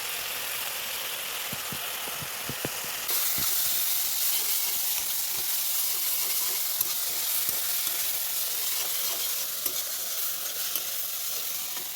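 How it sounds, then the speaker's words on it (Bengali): Onions and mixed vegetables frying in a pan for pasta, a continuous close sizzle and hiss punctuated by regular spatula taps and scrapes as they are stirred, no voices. "এখন সবজিগুলো ভেজে নেব"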